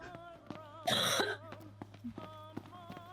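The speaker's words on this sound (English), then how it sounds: "That was a cough." A single sharp cough bursts out close by over a low background hum and faint tonal sounds from Final Fantasy XV gameplay, brief and loud against the quiet surroundings.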